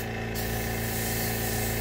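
An airbrush hisses steadily while spraying paint onto a scale model, a continuous close-up rushing sound with a low mechanical hum beneath and no pauses.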